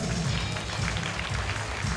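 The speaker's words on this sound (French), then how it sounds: "nous vous demandons d'applaudir une dernière fois" A crowd at a stallion parade in Villepinte claps steadily, a dense, continuous wash of applause.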